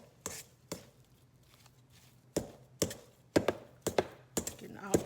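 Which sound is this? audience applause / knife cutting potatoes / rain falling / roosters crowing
knife cutting potatoes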